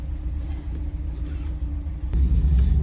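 Mazda Miata fitted with a coolant reroute kit rumbles at idle, then its engine note swells louder near the end as the car pulls away, a steady low drone with no talk.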